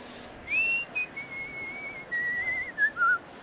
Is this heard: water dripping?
no